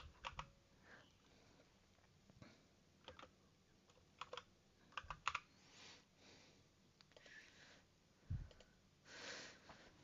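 Computer keyboard typing comes in irregular bursts of clicks at a moderate distance, with scattered louder key strikes and brief pauses between runs, plus an occasional sniff; no one speaks over it.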